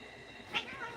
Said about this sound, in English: Cats are fighting.